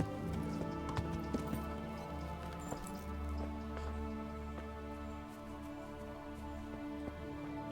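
Horse hooves clip-clopping in a night-time video game, a steady run of light, rapid clops heard close over a continuous low rumble and faint background ambience, with no talk.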